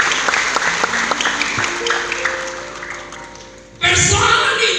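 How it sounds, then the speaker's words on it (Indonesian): Church audience at an Indonesian Christmas celebration sermon bursts into loud, sustained applause, steady clapping filling the hall before a sharp, louder swell near the end. "Tepuk tangan buat Tuhan Yesus kita."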